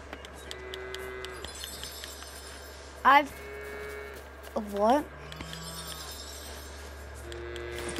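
Two loud cow moos ring out in the Lego version of Fortnite, rising over steady game background noise and ambience, with a voice speaking briefly in between them.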